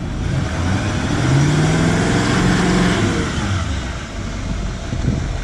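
The diesel engine of a 2018 Chevy Silverado 2500 Duramax pickup idles steadily at close range, a low rough rumble with a faint rising tone, and no voices.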